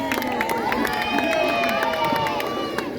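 Crowd at a family circus show in Cahors, France cheers and claps loudly and steadily throughout, with shouts and excited voices from children and adults in the audience.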